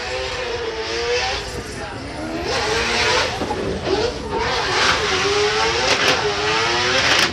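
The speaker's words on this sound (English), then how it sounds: "4-rotor single turbo. This thing is gonna scream right past us." A four-rotor single-turbo drift car screams past at a race circuit, its loud, high rotary wail rising and falling as it passes, with commentary and crowd noise blending underneath throughout.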